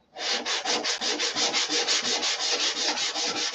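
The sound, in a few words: sanding an aircraft surface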